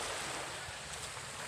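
Sea waves wash near a seaside house before a typhoon, giving a continuous broadband roar with wind rumble, steady and fairly close, without speech.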